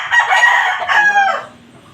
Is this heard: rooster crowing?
yes